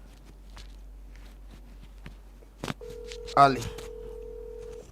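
A single telephone ring tone sounds once, brief and clear, on a call being taken during a live phone-in broadcast, with a short spoken word before it over a low steady hum.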